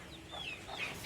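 Free-ranging domestic chickens foraging in a farmyard within a big city, giving a short run of soft clucks close by, with no other sound around them.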